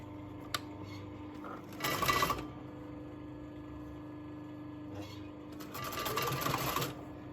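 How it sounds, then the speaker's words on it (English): A sewing machine stitching along the edge of fur and binding for a reconstructed 16th-century man's gown, running in two short bursts of rapid mechanical whirring separated by quiet pauses. "I'm sewing right on the edge of the binding and the fur."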